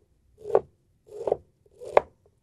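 Broccoli florets chopped with a knife for broccoli soup, three separate crunchy cuts at even intervals, close and clear against a quiet background.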